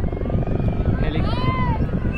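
Chief minister's helicopter arriving at a public event in Balod, Chhattisgarh, its rotor and engine roar running steadily under a crowd's murmur and someone talking throughout.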